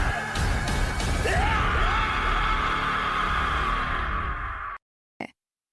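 Maruti, a cartoon Indian superhero, lets out a long, loud, strained yell. It holds steady for about four seconds, cuts off abruptly, and is followed by one short burst.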